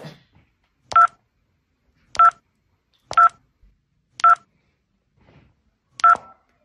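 Five short electronic tone bursts from a mobile phone keypad being dialed, evenly spaced about a second apart, clear and close in an otherwise quiet room.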